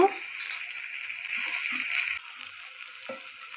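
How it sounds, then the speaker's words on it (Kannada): Chopped capsicum hits tempering oil with a sharp burst, then settles into a steady hissing sizzle that drops in loudness partway through, with faint stirring knocks. "ಈ ಹಂತದಲ್ಲಿ ನಾವು ಹೆಚ್ಚಿಟ್ಕೊಂಡಿದ್ದೀವಲ್ಲ ಕ್ಯಾಪ್ಸಿಕಮ್, ಅದನ್ನು ಒಗ್ಗರಣೆಗೆ ಆ್ಯಡ್ ಮಾಡೋಣ."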